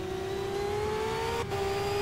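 Formula Renault 3.5 race car engines in a racing game hold a steady, high buzzing drone with a brief dip near the end, loud and continuous, with no voices.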